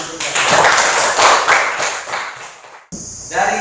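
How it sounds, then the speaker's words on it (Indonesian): A classroom of students clapping hands together, a dense burst of overlapping claps lasting a few seconds before it cuts off, followed by a voice speaking. "Sekarang tepuk tangan dulu."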